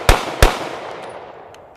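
Two sharp, loud pistol shots from a SIG P320 after it was dunked in mud, close and evenly spaced, each with a short ringing decay into quiet.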